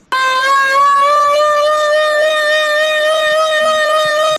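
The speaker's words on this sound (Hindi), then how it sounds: "ये चेक करें, ये सायरन चल रहा है आजकल।" A loud, steady civil defense siren wails continuously with a harmonic-rich tone, holding nearly constant pitch for several seconds before cutting off.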